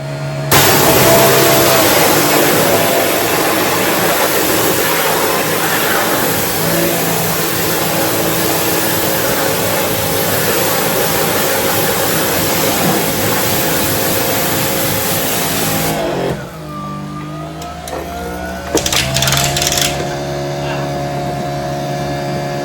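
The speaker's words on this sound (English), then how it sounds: "we're going to go ahead and plug this pressure washer in, and we're going to give this baby a try" A pressure washer runs steadily with a retractable hose reel used for car washing, a loud continuous motor drone that holds for most of the stretch before cutting out and briefly restarting near the end.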